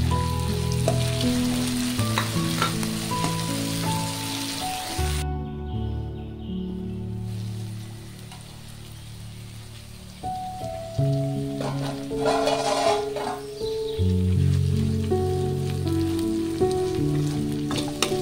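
Mustard seeds and other tempering spices fry in a pan of oil for a vegetable upma, giving a steady, close sizzle with occasional crackles under loud background music.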